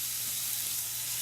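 Salted and peppered burgers frying in an oiled skillet give off a steady, close, dense sizzle, an even bright hiss with fine crackle that holds unchanged throughout.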